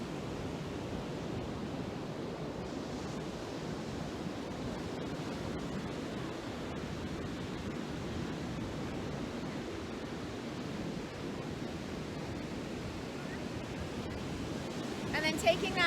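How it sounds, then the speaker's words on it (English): Ocean waves wash in a steady, continuous roar of surf that stays even and unbroken from start to end, with no distinct individual breakers standing out and no one talking. "Noticing the waves, how soothing the sound can be"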